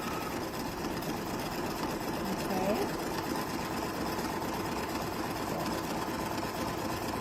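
Embroidery machine stitching out a template, a steady close whirring drone with a fast mechanical chatter that holds even throughout, no pauses.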